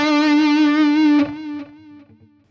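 Electric guitar played through a Fractal FM3/FM9 amp modeler with overdrive distortion: one sustained, saturated chord rings loudly for about a second, then is cut off and decays with a short reverb tail.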